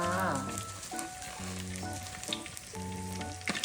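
Food frying in a pan in a home kitchen at a garden house. A faint, steady sizzle runs throughout beneath sustained musical tones.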